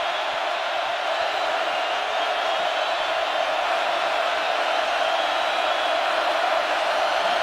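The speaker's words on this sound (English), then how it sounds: "Helps to have the crowd on your side. They are loud." Loud stadium crowd at a 2016 college football game, Miami at Virginia Tech, a constant broadband roar that holds steady throughout without breaks.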